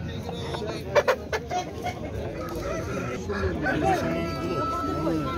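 Chickens cluck and a rooster calls among market chatter, with several sharp knocks early on.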